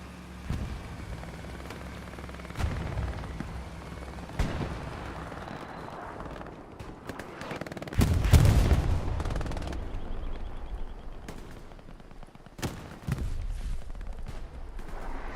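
Artillery fire in the WWII shooter Hell Let Loose at Purple Heart Lane, with heavy booming impacts and rumbling blasts scattered across a noisy battlefield and a big explosion cluster midway.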